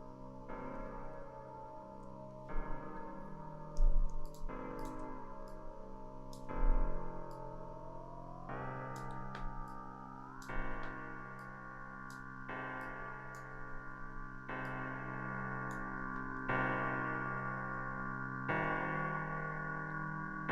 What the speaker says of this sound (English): And let's see how this sounds with some reverb added in.